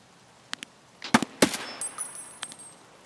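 Gunfire in the game Escape from Tarkov: a few sharp shots, then two loud close bursts around the middle, followed by scattered fainter reports and echoing tails.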